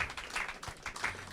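A small open-mic audience claps for a performer, a brief burst of scattered hand claps, fairly faint and distant, lasting just over a second.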